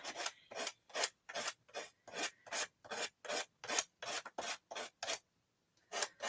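Sandpaper scraped in steady back-and-forth strokes, about fifteen close, loud rasping passes in an even rhythm with a short pause near the end before it resumes.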